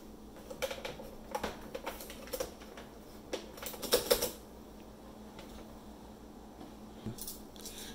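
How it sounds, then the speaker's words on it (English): Keycaps pressed back onto a mechanical keyboard fitted with blue Alps switches: scattered quiet clicks and snaps at an irregular pace, close up and faint, with no talking. "So start the process of putting all the keys back on and go"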